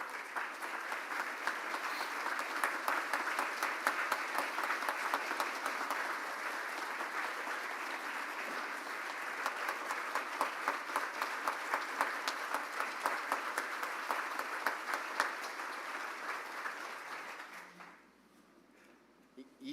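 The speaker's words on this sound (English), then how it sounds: "Would you all give him a round of applause?" Sustained audience applause at a Rotary Club of Tulsa award presentation, a dense, loud wash of many hands clapping for about seventeen seconds before it abruptly fades out.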